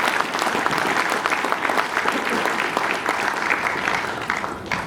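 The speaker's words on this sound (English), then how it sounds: "So a round of applause for all those people," Sustained audience applause at a school sports dinner, a dense, steady wash of many hands clapping throughout with no speech over it.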